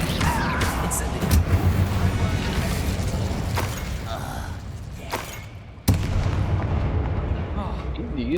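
An Incendio fire spell cast in Hogwarts Legacy lands as loud booming bursts over a rumbling game backdrop, ending in one sharp blast followed by continued rumble.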